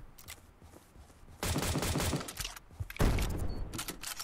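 Pistol shots in the browser battle-royale game Surviv.io, two loud bursts of gunfire with rapid sharp cracks over a busy game background.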